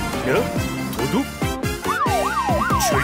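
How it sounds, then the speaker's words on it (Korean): A blue police car from a children's cartoon sounds its siren with rising and falling wails over busy music and sound effects. "경찰차가 왔어요."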